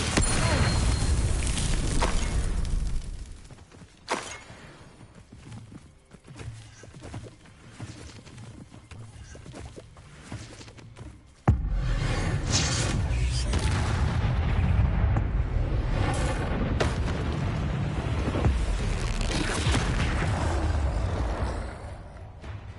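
Repeated Confringo fire spell explosions from the Hogwarts Legacy video game, booming bursts that start loud, drop to quieter crackling in the middle, then return as a dense, sustained barrage of blasts.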